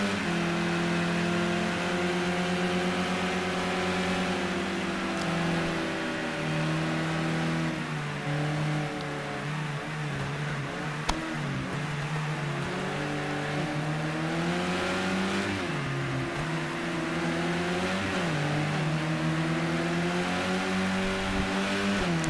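Touring-class race cars in Project Cars 2 drone continuously, with the engine pitch rising and falling through gear changes and acceleration as several cars run close together.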